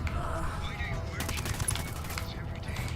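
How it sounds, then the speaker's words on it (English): Gunfire in the video game Ghost Recon Wildlands: dense, overlapping bursts of shots crackle over a steady rumbling background, growing heaviest in the middle before thinning out. "Ah, damn, I'm still being shot at."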